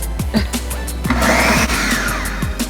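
A Ninja blender whirs loudly and steadily, its motor pitch rising and wavering as vegan mac and cheese sauce churns, with rhythmic knocking throughout.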